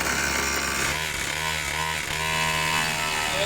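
A homemade saw blade monster truck's engine fires up without choke and runs loud and steady, a buzzy, chainsaw-like drone that holds for the whole stretch with no talk over it.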